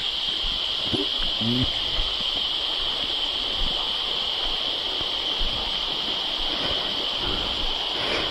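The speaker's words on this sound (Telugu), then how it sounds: "వాటర్ ఫాల్ ఉంది" Steady broadband rush of the Bheemuni Paadam waterfall in a Telangana forest, a continuous roaring wash of falling water filling the whole scene, with brief voices murmuring near the start.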